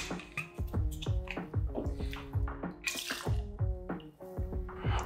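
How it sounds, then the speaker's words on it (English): Bourbon glugs into a metal cocktail shaker in a steady series of splashy, trickling pulses, close and clear with no talking over it. "in a cocktail shaker, we're gonna pour 2 ounces of bourbon"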